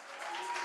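A church congregation applauding, a brief, faint, steady wash of clapping from many hands that swells slightly, heard from a distance.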